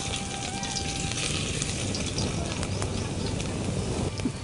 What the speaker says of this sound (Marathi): आता तूप गरम झालं, यात आपण फोडणीसाठी आणलेलं साहित्य घालूया